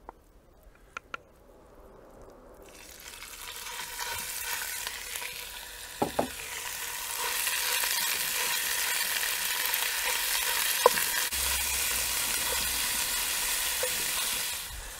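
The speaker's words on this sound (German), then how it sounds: "geben direkt das Hackfleisch ein und braten es scharf an" Minced meat hits hot oil in a Dutch oven and sears with a loud, steady hiss that swells after the first seconds, with a few sharp clanks of a utensil against the pot.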